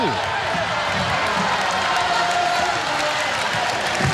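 A volleyball crowd at a 2016 Hawaii versus UCLA men's match keeps up a steady, loud roar of cheering and clapping, with a commentator's voice talking over it.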